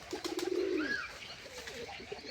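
Pigeons drying off in the sun after a bath give a soft low coo and a brief rising call, close by over faint background noise.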